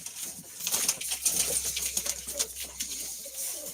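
Pigeons cooing inside a coop of tumbler pigeons, with soft repeated coos and rustling close by at moderate volume and no talk.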